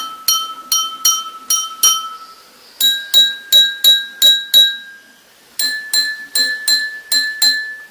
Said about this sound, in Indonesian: ternyata berbeda jumlah airnya akan menghasilkan bunyi yang berbeda juga